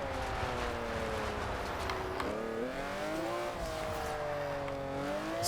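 A 2004 Maserati MC12 in Forza Horizon 2 revving hard in second gear, its engine note rising and dipping with gear changes and throttle, steady and loud throughout with faint tire noise.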